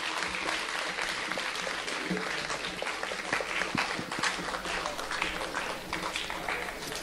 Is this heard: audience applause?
yes